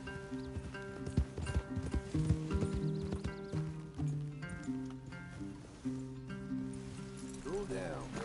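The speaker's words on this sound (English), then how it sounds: "Leave the horses in the trees there." Horse hooves clip-clop in Red Dead Redemption 2, a steady series of close, hollow knocks with a snort or whinny, beneath spoken character dialogue and a soft music bed.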